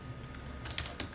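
Keystrokes on a computer keyboard while entering C++ code, a soft steady patter of small clicks with a few sharper taps near the end, close and alone.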